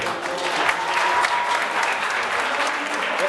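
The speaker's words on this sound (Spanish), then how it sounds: "por favor denle otro aplauso" Applause from a bar audience at a science talk night, a short, even burst of many people clapping together at moderate loudness without pause.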